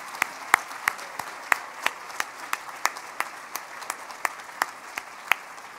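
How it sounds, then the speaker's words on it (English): A crowd at a university staff awards ceremony gives steady applause, a dense wash of clapping with a few sharp, closer claps standing out at a regular pace. "let's clap for yourselves"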